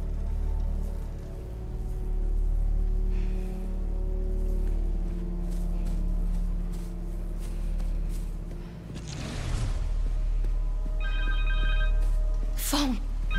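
A cell phone ringing in the Spider-Man 2 video game, a short electronic ring near the end, heard over a dense game soundscape with music, a whoosh and voices.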